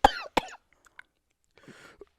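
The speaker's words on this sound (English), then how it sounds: "I tried to push out a cough and it didn't." A person gives two sharp, close coughs in quick succession, followed by a short pause and a rougher, strained throat-clearing sound.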